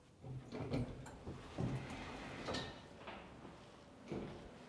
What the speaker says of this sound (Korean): 오늘도 이 임차인분 한번 만나 뵐 수 있는지 노크를 해보겠습니다.